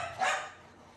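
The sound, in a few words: dogs barking in the house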